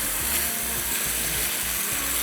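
Masala roasting in a pan for a potato dessert, a steady close sizzle and frying hiss with rhythmic low scraping strokes repeating about every half second, no voices.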